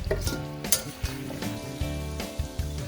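Sausage sizzles and crisps in a pot for jambalaya, a loud close frying crackle with periodic stirring scrapes and clicks against the pot.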